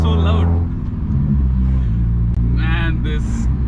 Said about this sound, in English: This exhaust is so loud.